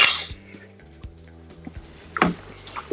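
Parsley and oregano get stirred into thickening tomato sauce in a pot, heard as a few light, scattered clinks of a utensil against the pot in an otherwise quiet kitchen.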